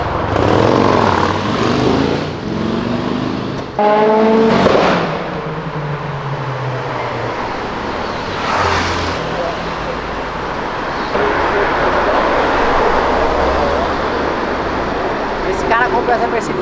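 Cars with loud, throaty exhausts roaring past on Avenida Europa: several engine passes rising and fading over traffic noise, with voices of bystanders talking over parts of it.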